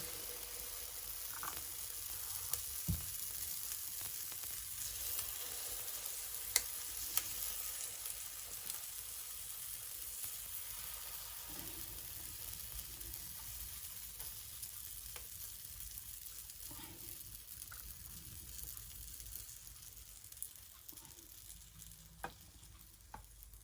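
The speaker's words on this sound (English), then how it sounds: "take some butter from here, from the butter mix that we made, and then I'm just gonna try and put them in here" Butter sizzling in a Belgian-style waffle iron, a steady faint frying hiss with occasional small pops and crackles throughout, no talk.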